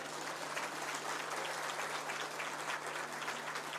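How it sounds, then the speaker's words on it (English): A crowd applauds at a large indoor public event, with steady, dense clapping that is moderately distant and continues without a break. "I promise you they deserve a better round of applause."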